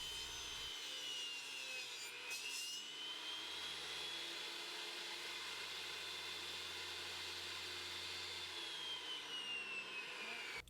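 A circular saw cuts a wooden board while a bench is built, whining steadily and close for about ten seconds with a brief spin-up at the start and a wind-down at the end.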